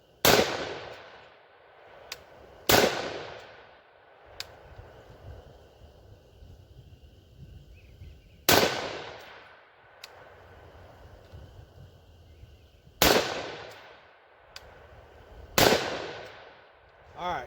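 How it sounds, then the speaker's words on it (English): Rifle shots fired while aiming through a Nightstar 1-10x LPVO scope, five or six loud sharp cracks spaced a few seconds apart, each with a short ringing decay outdoors, with quieter clanks and faint background noise between. "All right, so that was the final shot."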